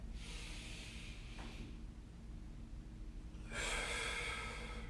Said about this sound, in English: Breathing out. Breathing in.